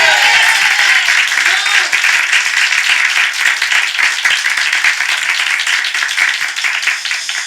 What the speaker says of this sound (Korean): 다시 한번 우리 하나님께 박수를 드리겠습니다